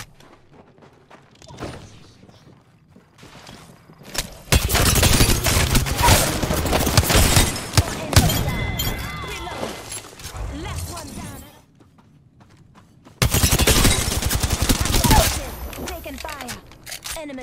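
Heavy video game gunfire erupts in two long sustained barrages of dense automatic shots, loud and close, separated by quieter stretches with scattered single shots and mechanical clicks, while a player talks.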